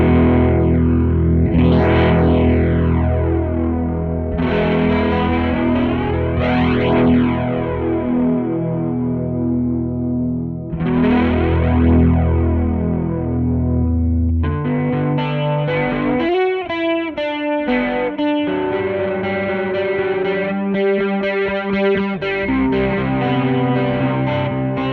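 An electric guitar plays through an OBNE Black Fountain Stereo delay pedal with modulation rate at zero and depth turned up. Sustained chords and picked notes ring out with thick, washy echoes, giving a continuous, loud, effect-laden sound with no speech.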